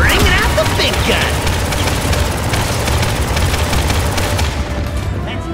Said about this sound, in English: Bring out the big gun!